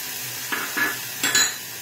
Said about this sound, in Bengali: পেঁয়াজটা যেহেতু আমার লাল লাল হয়ে গেছে, এবারে আমি এই যে এই পেস্টটা আমি দিয়ে দিলাম